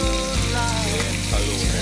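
Green chilies frying in a pan of dinuguan, a steady close sizzle with a low rumble and a couple of faint clinks, no talk.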